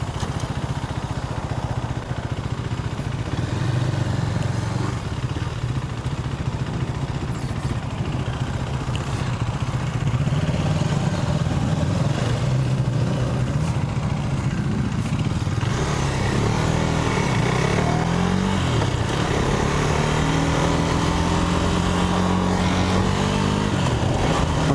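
A 2017 KTM 390 Duke motorcycle ridden on the road, its single-cylinder engine droning steadily close to the rider, with rising and falling revs as it accelerates and shifts, plus wind rush.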